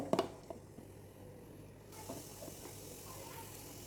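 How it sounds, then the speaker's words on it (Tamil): Three spoons of ghee hit a kadai of rava kesari mixed with roasted cashews and raisins, giving a faint, soft sizzle with a few small crackles at the start before settling into a low, steady hiss. "ஒரு 3 ஸ்பூன் நெய்யை சேர்த்துப்போம்."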